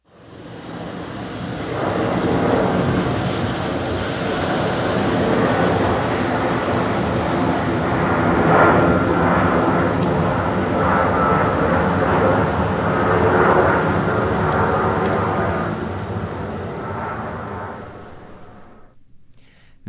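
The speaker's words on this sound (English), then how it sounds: "That was the rainy day that we're having today at the studio, and a jet engine going by." Rain falls steadily outside a studio while a jet aircraft passes overhead, its broad roar swelling and holding before fading away at the end.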